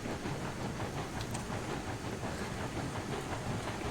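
A Mogul steam locomotive hauls a train through woods in the Railroads Online game, giving a steady, dense rolling rumble with rhythmic clatter and a faint hiss of steam, continuous and fairly loud with no talk.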